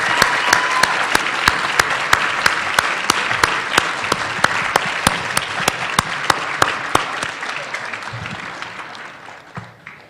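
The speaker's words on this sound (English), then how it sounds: "let's have one more round of applause to congratulate all of our winners today" A round of applause for the winners at the 2018 MLK Diversity Awards in Tempe, with steady clapping and a few sharp louder claps standing out, fading gradually toward the end.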